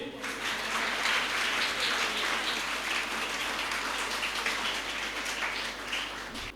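A school audience applauds at a Defence Day speech event at Quaid Public High School in Sialkot, a dense, steady roar of many hands clapping for several seconds before easing off.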